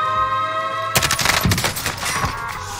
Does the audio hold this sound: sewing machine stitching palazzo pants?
no